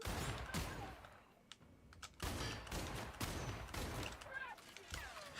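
Gunfire in The Outer Worlds, bursts of rapid shots in several loud clusters separated by brief quieter gaps, fairly close and continuous across the moment.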